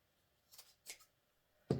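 Scissors snipping through inexpensive Dollar Tree craft items to halve them for a Mickey Christmas wreath, a few quick separate cuts, close and fairly quiet, followed by a louder knock.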